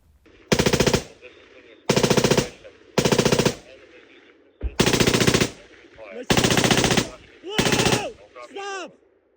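Six loud bursts of automatic machine-gun fire in combat, each roughly half a second long, separated by short gaps, with faint shouting between the later bursts.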